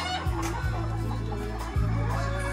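Hens kept for breeding cluck repeatedly on a chicken farm, with several low, steady clucks in a continuous run and no voices.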